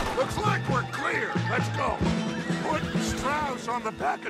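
Horse neighing in the video game Red Dead Redemption 2, whinnies rising over game music and other sounds, fairly loud and close.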